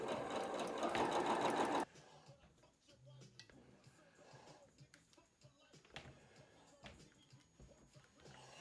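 A sewing machine stitches dress shirt fabric in a steady, close, loud whirring run of about two seconds, then stops, leaving faint handling noises and quiet movement.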